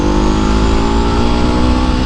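A Ducati 749 superbike from 2006 revving steadily and loudly up close, its engine holding a dense, continuous drone for about two seconds with no voices over it.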